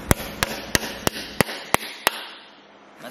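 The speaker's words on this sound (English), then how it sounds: "that's going to protect your threads as you hit it with a hammer" Hammer tapping a -10AN press-in breather fitting into an RB26 valve cover, seven sharp evenly spaced knocks close up, then the ringing fades to quiet.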